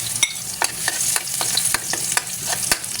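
Garlic sautés in a hot pan with a bright, continuous sizzle, broken by a rhythmic run of spatula scrapes and taps, close and fairly loud.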